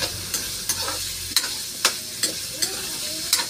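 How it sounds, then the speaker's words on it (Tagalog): Potatoes and carrots frying in a pan for pork afritada, with a steady soft sizzle broken by sharp, regular scraping stirs of a utensil against the pan, close and alone. "iprito-prito muna natin ang patatas sa carrot"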